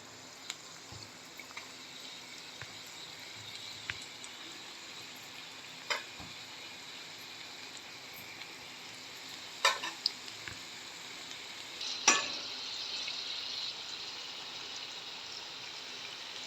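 Crab-style onion bhaji (khekda bhaji) fries in oil with a soft, steady hissing sizzle, broken by occasional light taps and clicks and a slightly louder burst of bubbling toward the end.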